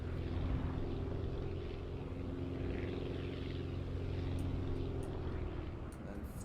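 A propeller plane engine in the Aviassembly flight game drones at a steady pitch, a continuous low buzzing hum that stays level throughout without pause.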